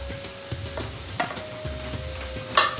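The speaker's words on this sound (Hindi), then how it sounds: "आईटा के भल से मिसेदेमा" Dry fish and tomatoes frying in a pan, stirred steadily, with a continuous close sizzle broken by soft scraping strokes and one sharper clack near the end, no voices.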